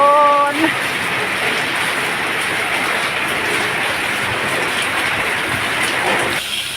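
Rain pours steadily at a canal-side garden home, a loud dense hiss that holds evenly throughout, preceded by a brief tonal sound at the start.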